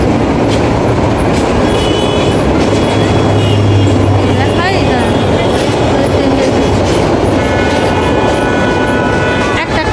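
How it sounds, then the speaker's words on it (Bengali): A train rolls past close by at a Bangladeshi market railway crossing, loud and continuous rumbling with clickety-clack of wheels throughout, with voices and street bustle mixed in. "ট্রেন যাইতেছি"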